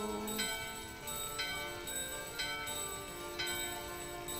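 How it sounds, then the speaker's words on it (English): Bell in the video game Final Fantasy IX chiming in a steady, evenly spaced series of bright metallic strikes over a sustained musical background, moderately quiet. "we're gonna come up here and we're gonna ring the bell"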